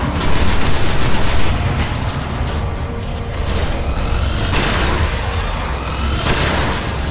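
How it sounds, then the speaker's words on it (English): Rapid plasma rifle fire from the video game Destiny, a loud, sustained stream of energy shots with bursts and booms layered over dense battle noise, continuing throughout without talk. "These plasma rifles, whatever they're called, are the best"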